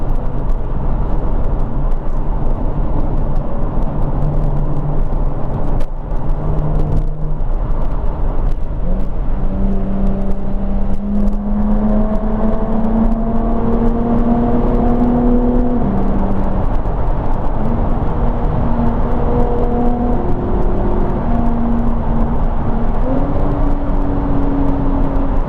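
A Jaguar F-Type's engine drones loudly and continuously in a North Wales tunnel, with rising and falling tonal whines as it revs, echoing in the enclosed space.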